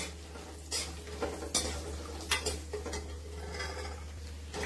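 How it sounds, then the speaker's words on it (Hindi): Makhana (fox nuts) are sautéed dry in a pan, giving soft rustling and several sharp scrapes and clinks of a spoon against metal over a low steady hum. "फिर इसमें जाएगा मखाना, और हमें इसे सौटे करना है। भूनना है।"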